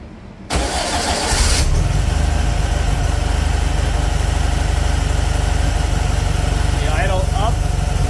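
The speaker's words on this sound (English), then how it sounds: "So let's go ahead and start the motor and see what she does" A VW turbo engine with a reworked throttle body cranks briefly and catches, then settles into a steady, loud idle that holds to the end, with a faint higher chirp near the close.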